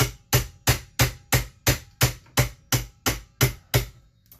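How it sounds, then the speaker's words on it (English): A ball peen hammer peening a rivet on a McCulloch 640 chainsaw bow bar in about a dozen evenly spaced, ringing blows, close and steady, with no talking. "we're just taking the end of the ball peen hammer here,"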